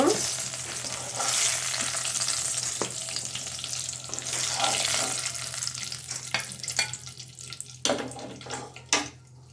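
Eggplant slices frying in a small amount of oil, a steady soft sizzle with occasional clinks and scraping stirs, close and fairly quiet, with no talking.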